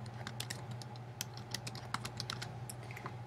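Fingers type a web address on a computer keyboard, a rapid irregular run of light clicking keystrokes close to the microphone over a low steady hum, with no talking.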